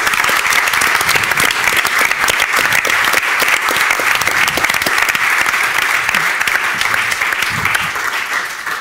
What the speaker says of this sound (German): Sie haben alle einen Applaus verdient.